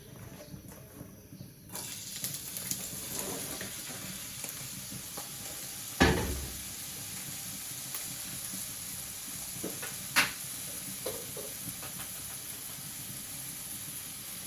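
Cauliflower and potato frying in a pan give off a steady hiss and sizzle, with a couple of sharp clanks from the pan partway through.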